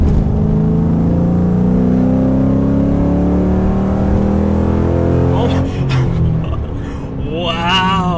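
Nitrous-boosted Ford Mustang engine accelerating hard and close, its rising harmonic whine climbing steadily in pitch, then shifting character near the end as a voice briefly talks over it.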